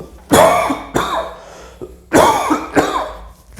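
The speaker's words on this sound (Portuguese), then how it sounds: "Essa tossinha não vai, né, cara?" Four sharp, close coughs, each a harsh burst, the first two and last two grouped in pairs with short gaps.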